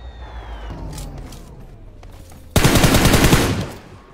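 Automatic gunfire from an MK gun in a video game: a loud, dense burst of rapid shots erupts after a quieter stretch of ambient game noise and lasts about a second before cutting off.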